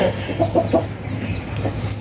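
A few soft clucks from chickens, one with a broken left leg, come in a quick cluster at the start, then fade into a low hum with faint calls.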